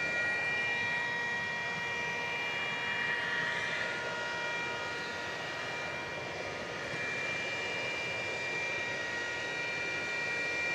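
A jet aircraft engine at DFW Airport after dark gives off a steady high-pitched whine over a broad hiss. It is constant and moderately distant throughout, with no voices.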